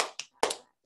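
During a school music sing-along, children clap and stomp in quick sharp bursts, two close hits followed by a louder broad smack, near and dry.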